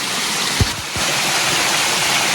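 Constant roaring rush of Silbunia waterfall on Marayongtong hill in the rainy season, dense and even throughout, with a couple of faint low thumps early on.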